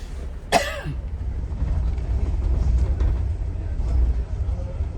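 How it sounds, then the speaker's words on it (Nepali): A single sharp cough from a person riding a city bus between London and Edinburgh, heard once near the start over a steady low rumble of the moving vehicle. "तपाईँलाई खोकी लाग्न आँट्यो क्या?"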